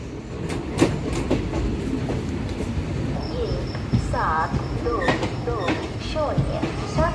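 An express train from Visakhapatnam to Machilipatnam rumbles along at speed near Bhimavaram with a rhythmic clatter of wheels on track, loud and close, as voices talk over the din.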